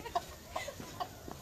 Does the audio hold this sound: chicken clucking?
yes